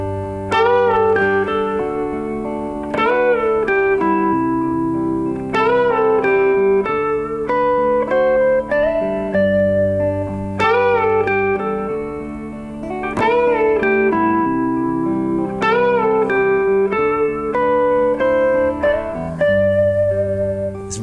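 An electric guitar plays a lead melody over a chordal backing track. Clear sustained notes and bends repeat in phrases, loud and continuous, with no speech.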